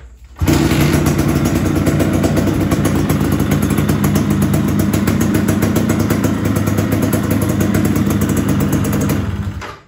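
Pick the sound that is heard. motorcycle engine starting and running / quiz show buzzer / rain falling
motorcycle engine starting and running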